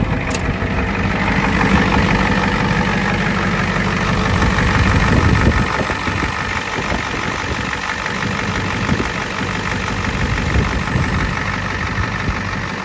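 A 7.3 IDI diesel engine runs at idle after starting, a steady, loud, close rumble with a continuous clattering knock throughout and no talk.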